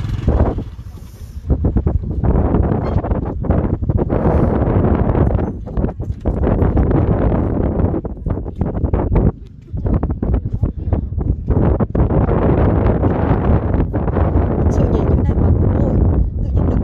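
Strong wind gusting across a bridge over a river, a steady loud broadband roar buffeting the microphone, with people speaking over it throughout.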